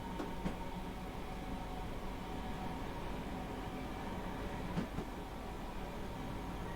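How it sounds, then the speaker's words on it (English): A commuter train on the Cathcart Circle route in Train Sim World 2 rumbles steadily in a continuous low drone, with a few faint clicks and clacks rising now and then, no voices. "We've got a train here that's waiting for us"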